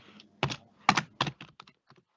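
Manual typing on a computer keyboard: several distinct close keystrokes and short bursts of clacks spaced irregularly across two seconds, growing softer toward the end, with no voices.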